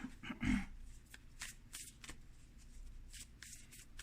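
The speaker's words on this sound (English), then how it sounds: "I am going to pull some Universe Has My Back cards" Oracle cards from the Universe Has My Back deck being shuffled by hand, a quiet papery riffle with a brief louder burst near the start, then soft continued handling with no talking.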